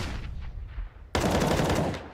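Gunfire in Counter-Strike during a pro match, a sudden loud burst of rapid automatic shots cutting in after a quieter stretch and continuing to the end.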